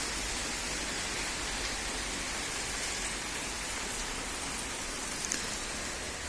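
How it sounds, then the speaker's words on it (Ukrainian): Dense, even rainfall hisses continuously, a close and unbroken wash of falling water with no other sounds. "Дощ іде, іде."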